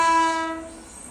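A train sounds its horn as it passes: a single close, loud blast that fades away within about a second, heard alone.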